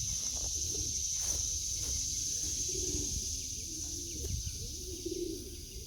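A young racing pigeon back home in its loft gives soft, low, repeated coos, near and gentle, over a steady high-pitched background hum with light shuffling.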